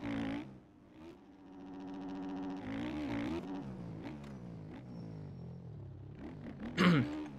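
Suzuki 450 motocross bike engine in MX Bikes, revving up and down in whining, rising and falling pitches with a sharp burst near the end, at moderate volume.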